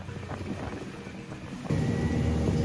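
A local boat crossing open water on the way to Nicaragua produces a steady engine drone mixed with wind buffeting and water rush, growing slightly louder and fuller partway through.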